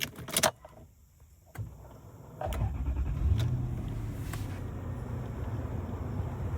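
A cold JDM Toyota Land Cruiser: keys jangle and a power window whirs, then the engine settles into a low, quiet, steady idle rumble heard close by.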